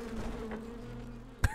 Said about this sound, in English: Actually being attacked by a swarm of bees.